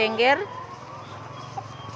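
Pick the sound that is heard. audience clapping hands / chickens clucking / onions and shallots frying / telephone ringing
chickens clucking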